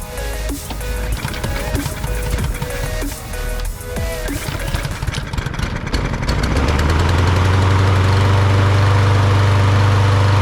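A lawn mower's small petrol engine starts back up and settles into a loud, steady running drone close by, following rattling and clattering.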